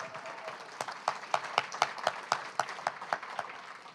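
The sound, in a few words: audience applause for a poet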